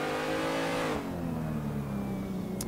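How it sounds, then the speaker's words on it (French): An onboard race car engine in the Assetto Corsa racing game at Okayama revs hard, then the pitch drops sharply as the driver lifts and shifts before building again, loud and continuous. "On est à bord de la voiture de Kevin."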